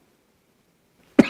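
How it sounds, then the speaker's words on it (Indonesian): A single sharp cough from an adult man lecturing indoors, close and loud, bursting out abruptly at the very end after near silence. "Maaf, saya batuk."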